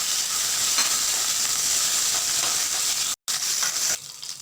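Dried red chillies fry in hot oil for rasam, giving a close, steady sizzle and crackle that breaks off for a brief moment near the end, then carries on more softly.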